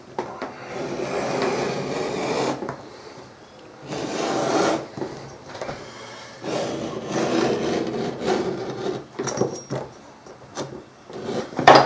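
A blade bevels the edges of leather for a Viking Hedeby-style archery quiver. It makes repeated scraping strokes in bursts of a second or two, separated by short pauses, close and moderately loud, with no talk.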